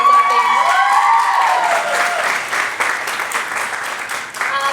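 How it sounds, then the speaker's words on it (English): A birthday party audience gives a round of applause with some cheering, loud and dense at first and then thinning slightly, continuous throughout with no talk over it. "We should give him one more round of applause,"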